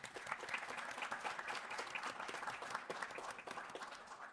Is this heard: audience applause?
yes